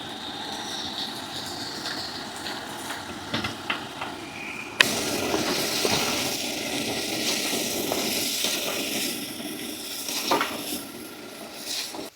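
Tamarind and turkey berries roasted in sesame oil, poured into a hot pan, give a steady, close sizzle and hiss. A sharper burst of frying starts partway through, with faint clinks of a pan and utensils under it.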